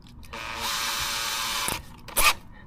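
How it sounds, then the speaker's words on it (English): A small power drill with a small bit whirs steadily for over a second, stops, then gives a short louder burst, close up with no talking, during a foot pedal accelerator installation. "drill bit, and I'm going to drill it through"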